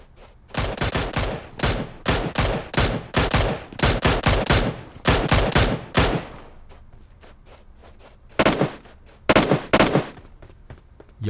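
Automatic gunfire in the PUBG Mobile battle royale on the Miramar desert map, close, loud bursts of rapid shots in quick succession, a pause, then a few more sharp bursts.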